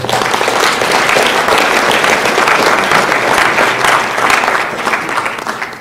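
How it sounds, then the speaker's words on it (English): An audience at a school fall sports awards night gives a round of applause, dense, even clapping from a large crowd that holds steady throughout with little else heard. "Let's give those people a round of applause"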